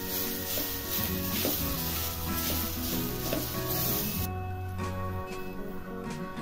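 Wheat flour mixture sizzles softly as it roasts in a pan for steamed wheat-flour modak, a continuous close frying crackle with stirring scrapes and a steady tonal hum beneath, no talk.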